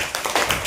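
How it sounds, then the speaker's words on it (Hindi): Children in a classroom clap, a brief burst of a few quick, sharp, uneven claps close by. "वेरी गुड, ताली बजाने के लिए।"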